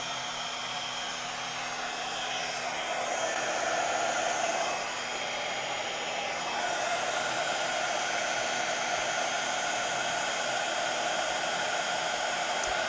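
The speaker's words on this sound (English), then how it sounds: "So let me get my heat tool out." A handheld heat tool blows a steady, loud whoosh of hot air while melting white embossing powder on a mixed media card, with a slight swell midway and no talking over it.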